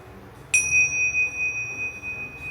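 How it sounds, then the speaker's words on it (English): A single bell is struck once during a spiritual gathering and rings out with a clear, sustained high tone that lingers over a quiet room. "I'll be needing that bell"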